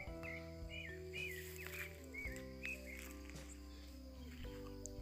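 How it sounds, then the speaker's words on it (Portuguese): A sabiá thrush sings loose in the woods, short whistled phrases repeating over sustained tonal drones and faint insect buzz. "Olha que lindo o canto da sabiá solta na mata."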